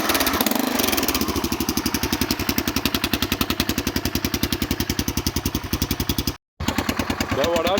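A Honda NX 650 Dominator single-cylinder motorcycle engine runs warm after a hot start, loud and close with a steady rapid thumping idle, cutting out briefly near the end before picking up again with a slight rev.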